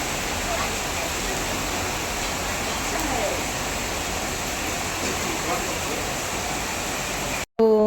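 Steady rain and wind in cool weather make a dense, unbroken hiss that stays level from start to finish, moderately loud, with nothing else standing out before a sudden cut at the end.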